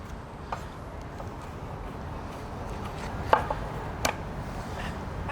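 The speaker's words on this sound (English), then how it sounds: "Kind of just like chopping this up," Knife chopping taco filling into bigger chunks on a board during a cooking demo at a showroom, with soft scattered cuts and a couple of sharper knocks over a steady background hiss.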